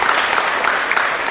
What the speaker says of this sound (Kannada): ಜೋರಾಗಿ ಒಂದು ಚಪ್ಪಾಳೆ ನಿಮ್ಮಿಂದ ನಾವು ಬಯಸುವ